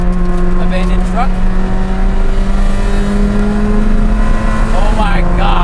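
A McLaren Senna's engine roars steadily while driving, heard from inside the cabin as a loud, unbroken drone with a rising pitch, and people talk over it.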